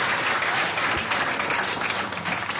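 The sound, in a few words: audience applause for Serj Tankian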